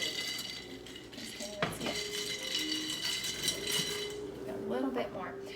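A spoon swirls and clinks against a glass while iced cold brew coffee is stirred with canned coconut milk, making faint tinkling and ice rattling as someone talks over it.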